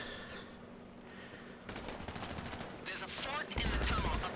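Gunfire in the online game GTA Online: a quiet stretch gives way to bursts of rapid shots that build and grow louder toward the end, with a voice talking over the action.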